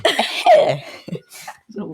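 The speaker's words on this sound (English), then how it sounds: "The weakest cough ever." A weak, short cough sounds close and fairly quiet, followed by a couple of small throat-clearing bursts.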